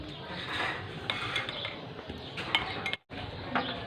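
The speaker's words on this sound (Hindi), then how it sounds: "इसको मिक्स करूंगा अच्छी तरीके से इसमें" A spoon clinks repeatedly against a glass while a jaggery sharbat is stirred, producing close, quick metallic taps in an uneven rhythm with a brief pause near the end.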